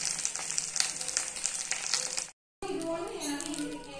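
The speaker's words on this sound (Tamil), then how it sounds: "திருப்பி போட்டு நல்லா வேக வைக்கணும்." Fish wrapped in banana leaf frying on a stove, a soft continuous sizzle and crackle, briefly cut to silence before resuming with faint background voices.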